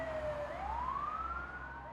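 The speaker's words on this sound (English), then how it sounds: "they shut the ambulance doors and sped off with the sirens blaring" An ambulance siren wails nearby, one continuous tone sweeping down and then rising again over a low road rumble, loud and alone.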